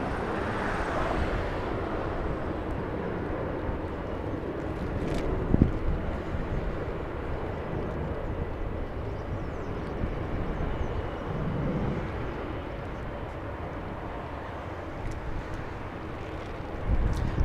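Boeing 787 Dreamliner airliners at Los Angeles International Airport, heard as a steady, fairly distant jet roar with wind rumble buffeting the microphone, holding level throughout and swelling slightly near the end.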